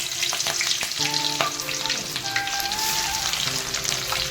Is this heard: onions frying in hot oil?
yes